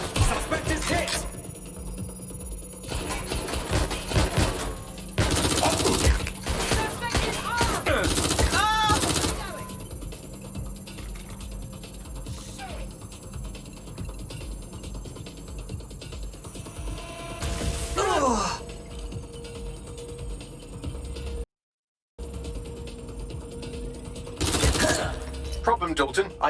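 Gunfire in a Watch Dogs: Legion firefight, with loud rapid automatic bursts and single shots arriving in clusters, mixed with crashes and shouted voices over the action.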